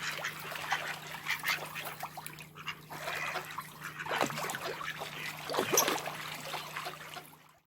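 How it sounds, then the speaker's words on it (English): Ducks and moorhens are fed bread on open water outdoors, with faint splashing, dribbling water and soft scattered bird calls. The sound is low and distant and carries no talk. "Look at them little moor hens, aren't they gorgeous?"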